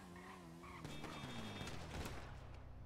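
Video game gunfire pops in a few quick bursts at low volume over background game noise, with no one talking.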